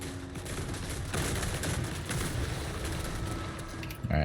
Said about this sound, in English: Finally some gunners in action. It's been a while since I've seen my gunners work.